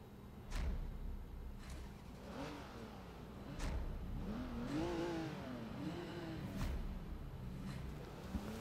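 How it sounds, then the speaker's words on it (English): A luxury car's engine and exhaust in Forza Horizon 3 rev and accelerate in repeated rising sweeps, with a rough mid-pitched growl and brief gear-change pauses, moderately close. "It's still a pretty nice engine sound, even though it's a luxury car."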